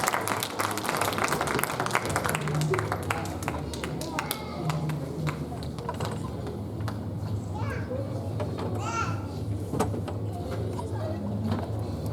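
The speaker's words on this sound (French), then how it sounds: "On va les applaudir." Guests clap at a wedding ceremony, with a burst of rapid applause early on that fades under ongoing chatter, children's voices and other room noise.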